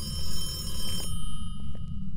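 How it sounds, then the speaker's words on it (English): A telephone rings in the horror video game Phasmophobia, a steady electronic trill just outside a room, moderately loud over a low rumbling background, with no talk. "It was ringing the phone outside the room."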